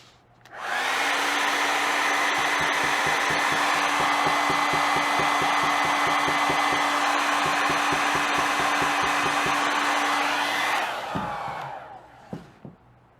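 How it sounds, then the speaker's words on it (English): A hair dryer runs steadily and loudly for about ten seconds during a polyurethane headliner repair, a constant whooshing roar with a faint motor hum, then switches off and winds down, followed by a few soft knocks. "I'm going to take the hair dryer,"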